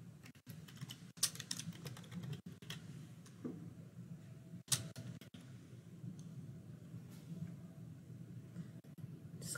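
Keys clatter as an address is typed on a computer keyboard, steady quiet tapping with a few sharper clicks over a low room hum.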